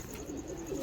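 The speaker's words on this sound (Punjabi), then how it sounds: "ਕਬੂਤਰ ਦੇਖਿਓ ਤੁਸੀਂ" Pigeons coo softly in soft, low, rounded calls over a quiet background, faint and brief.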